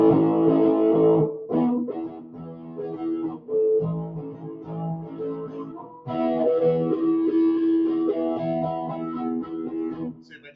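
Fender Jazzmaster electric guitar played through a British 60s amp effect setting, with wavering, modulated chords ringing out over about ten seconds. The playing pauses briefly near the middle, then returns louder and fuller, with no talking.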